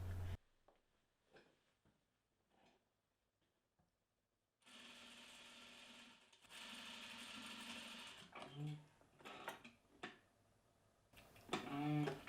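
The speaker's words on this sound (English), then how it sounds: "Pin it and sew at 1/4 inch seam allowance on those curved edges" A sewing machine stitches the curved edges of a hoodie hood in several bursts of rapid mechanical whirring, separated by quieter handling noises and pauses.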